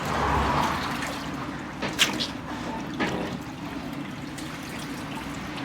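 Water sloshes and splashes as mutton pieces are washed for pickle, a steady wet churning with a couple of sharper splashes, close and continuous.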